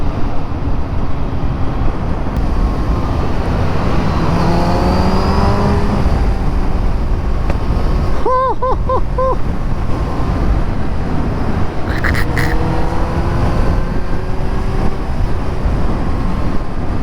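A Kawasaki Z1000 motorcycle engine hums continuously on a test ride, rolling in third gear with revs rising and easing in smooth sweeps under steady wind noise, close and loud throughout.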